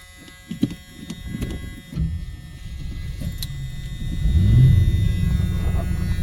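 An old car called Lena, fresh from cooling-system upgrades, cranks with the gas pressed and fires on the first try. A rough, uneven engine rumble builds to a louder idle and then falters toward a stall, with no talking.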